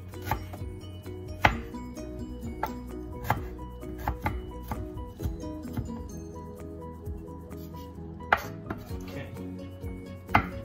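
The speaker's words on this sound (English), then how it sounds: "this is ginger root. I'm gonna chop that first. Chop it up nice and fine" Fresh ginger root is chopped finely with a knife on a board in a home kitchen, giving sharp, close knocks in an uneven rhythm over a low background of clattering kitchenware. No one speaks.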